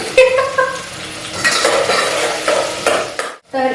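Chopped onion goes into a pan with cumin and is stirred for dal khichdi, bringing loud scraping and clinking of a utensil against metal over a light sizzle, then a short pause before the stirring resumes.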